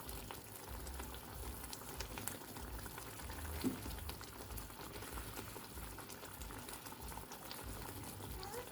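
Meatballs simmering in a sauce made with milk or cooking cream give off a faint, steady bubbling and low hiss, with one soft utensil tap midway and no talking.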